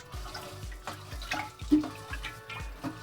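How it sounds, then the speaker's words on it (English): White rice being washed by hand in a pot of water, fingertips agitating the grains to give rhythmic soft sloshes and swishes about every half second, close and fairly quiet with no speech. "Washing white rice is very important."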